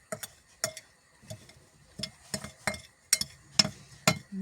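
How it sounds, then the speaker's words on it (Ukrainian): Hand stirring of a mixture in a bowl, a quick series of clinking and scraping strokes in an irregular rhythm, close and crisp with quiet gaps between them. "тепер беремо цю всю суміш, так перемішуємо, щоб усе було одинаково"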